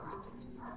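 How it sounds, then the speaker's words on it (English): A dog barks faintly outside an apartment, a distant, muffled yelp over a steady low background hum. "there's a dog barking outside of my apartment"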